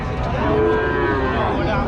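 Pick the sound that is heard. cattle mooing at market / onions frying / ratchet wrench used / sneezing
cattle mooing at market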